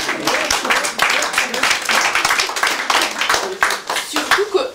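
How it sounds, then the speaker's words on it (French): At a conference, the audience claps to honour a speaker, with uneven, choppy bursts of hand clapping close by and a voice talking over parts of it. "On peut l'applaudir."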